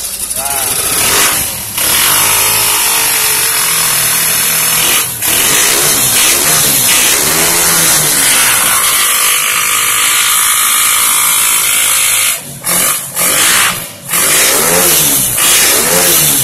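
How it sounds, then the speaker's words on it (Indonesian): A motorcycle started with a bare wire in place of the ignition key runs loud and close, its engine revving up and down repeatedly while someone talks over it. "Motor sudah hidup kan, udah cuma pakai kawat saja ini."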